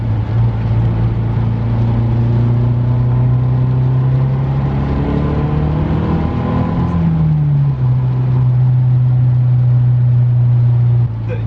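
A MazdaSpeed 3 with its resonator deleted drones steadily at idle, rises into a rev partway through and then settles back to a loud, bassy hum, close and continuous with no talk over it.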